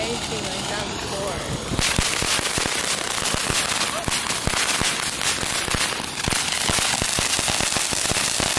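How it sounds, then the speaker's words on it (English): Fireworks are set off at a roadside spot, a dense run of sharp firecracker pops and crackles, loud and close, bursting in rapid irregular bursts, with voices faintly under them. "We're gonna light some fireworks."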